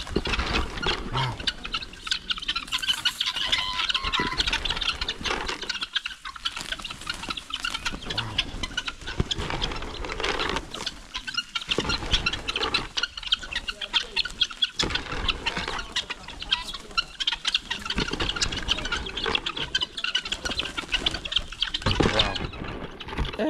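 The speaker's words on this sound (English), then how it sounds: "Look at the guinea fowl." A large flock of guinea fowl at a villa in Medellin keeps up a noisy, continuous chorus of harsh, rapid clucking calls, dense and close, with no talking over it.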